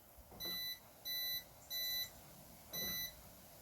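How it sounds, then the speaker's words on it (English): Four evenly spaced electronic beeps from a Mercedes W211 car alarm on locking, each lasting about half a second, with short gaps between them, fairly faint. "the alarm beeps once"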